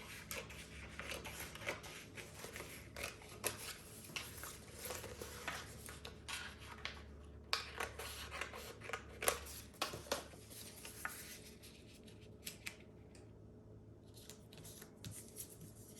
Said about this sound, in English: So I'm going to cut out a piece for that as well.